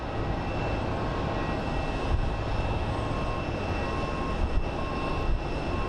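An MD-11 jet on approach to the south side at Phoenix Sky Harbor produces a steady, droning engine roar at moderate distance, with gusty wind buffeting the microphone.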